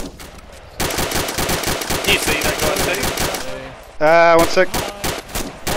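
Rapid automatic gunfire from the military shooter ArmA II rattles in long continuous bursts, loud and close, with a brief spoken remark near the end.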